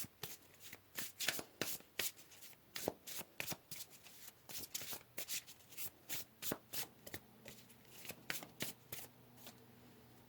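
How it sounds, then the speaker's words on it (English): Tarot cards being shuffled by hand, a close, quiet series of rapid riffling flutters and soft slaps in an irregular rhythm, heard on their own without talk. "let's pull another card here"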